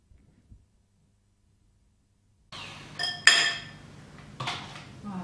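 Aloe vera gel and hair balm stirred together in a bowl, giving a few close clinks and scrapes of a spoon against the bowl after a silent start.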